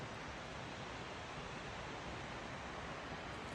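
Running water in a mountain creek on a forested Big Creek hillside: a steady, broadband rushing wash, even and unbroken throughout, with no voices.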